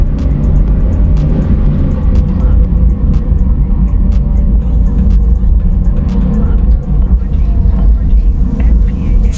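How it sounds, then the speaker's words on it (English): A fighter plane engine in a video game, likely an American aircraft, drones as a loud, steady rumble that continues without a break throughout. "I knew I was hearing an engine behind me."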